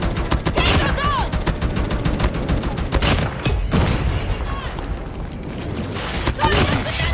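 Call of Duty Mobile battle with an airstrike: dense bursts of rapid gunfire and booming explosions, loud and close, with a heavy blast near the middle and a game announcer voice in the mix.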